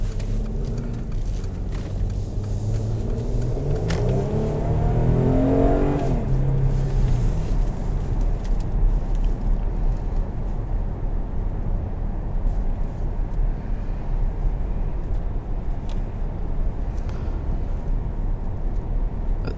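Steady low road and tire rumble inside a moving 2015 Mercedes ML 350 with about 100,000 miles, a muted highway drone with faint wind hiss and a brief swell midway, no talking.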